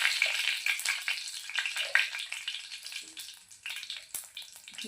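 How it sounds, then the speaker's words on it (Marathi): Whole spices and a bay leaf crackle in hot oil for Kerala-style chicken curry, a fairly faint run of sharp spitting pops and fizzing bursts close by. "खडे मसाले थोडेसे झाले की यामध्ये बघा मी सुद्धा ॲड केलेला आहे तेजपत्ता"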